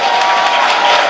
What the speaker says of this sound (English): a big round of applause for our favourite white supremacist in the room